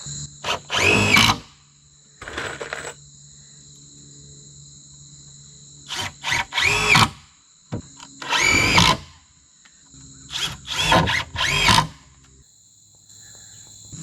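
A power drill drives screws through boards while a deer blind is being built, several short whirring bursts separated by pauses, with crickets chirping faintly in the background.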